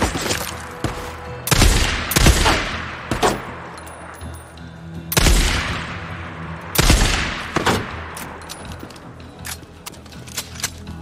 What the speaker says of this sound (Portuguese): deu um tiro de ponto 50 na cabeça daquela mina